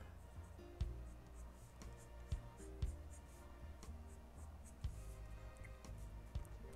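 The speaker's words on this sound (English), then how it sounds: "And then kind of draw your little features around it." A pen scratches across paper while drawing the facial features of a caricature, a series of short quick strokes with several sharper taps, close and fairly quiet, with no talk.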